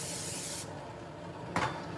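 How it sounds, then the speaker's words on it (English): Cooking spray is sprayed onto a baking dish in a home kitchen: a steady aerosol hiss that cuts off, then a second short burst after a pause, close and fairly loud with no talk. "I'm gonna give this a spray."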